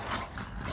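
A puppy barks or yips briefly nearby, a short rough burst of noise with no talking.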